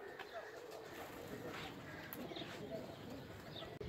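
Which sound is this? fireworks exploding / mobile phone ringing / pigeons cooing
pigeons cooing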